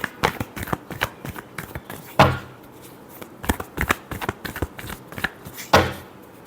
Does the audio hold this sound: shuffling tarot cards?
yes